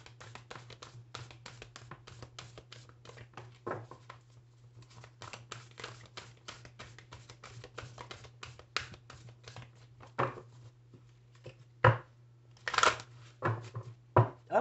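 Tarot cards being shuffled up close: a long run of rapid, soft flicking taps and riffles, with louder slaps and crinkling bursts near the end, over a low steady hum.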